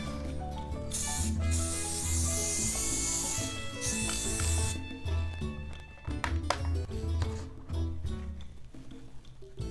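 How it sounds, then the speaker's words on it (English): Hissing bursts of an aerosol spray, one long spray then shorter ones, mixed with background music and tapping, spraying the side of a gold champagne tray. "I'm going to spray the side."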